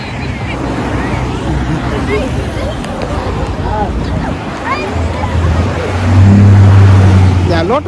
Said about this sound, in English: A lot of vehicles here.